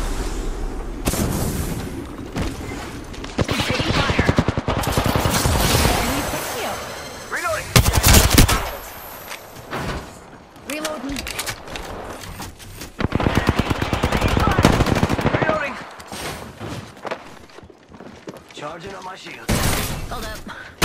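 Automatic weapon fire in the shooter Apex Legends, loud rapid bursts and single shots repeating across the whole stretch, with breaks and some heavier impacts, under intermittent voice chatter.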